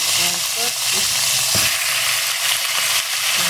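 Native chicken sautés in a hot pan with a loud, steady, close sizzle, a few light clinks of stirring near the start and no voices.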